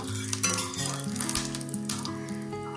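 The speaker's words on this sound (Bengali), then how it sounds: "দালচিনি দিলাম আর জয়িত্রী। একটু নেড়ে নিচ্ছি।" Cinnamon and mace fry in a pan while being stirred, a loud sizzle with scraping strokes and light clinks of the utensil throughout, no voices.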